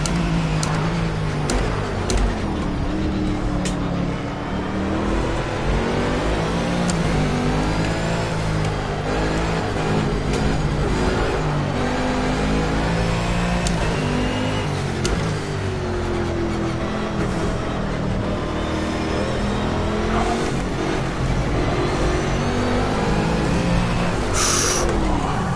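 A race car in the Project CARS video game drives steadily through a practice run. The engine drones loudly and continuously, rising and falling in pitch as it revs and shifts gears. No one speaks.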